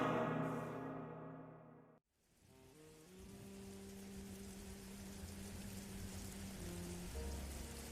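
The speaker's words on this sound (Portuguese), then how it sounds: "A chuva não caía. Ela se atirava contra os vitrais da paróquia Santo Antônio" Heavy rain hurls itself against the stained-glass windows of Santo Antônio parish church, a dense, steady hiss that swells in after a brief musical passage cuts off, with low sustained tones lingering beneath.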